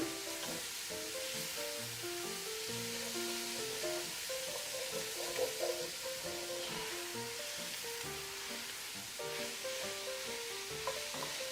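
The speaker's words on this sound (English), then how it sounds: "Scraping up the bottom so it doesn't burn." Short ribs braising in a sizzling pan while a utensil scrapes the bottom, a steady bright hiss with occasional scraping strokes and soft music underneath, no voices.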